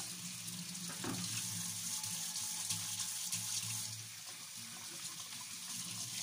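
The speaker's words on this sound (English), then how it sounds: "Now I'm going to wash my hands." A tap runs steadily as hands are washed at a sink, a continuous soft splashing hiss with a brief knock partway through.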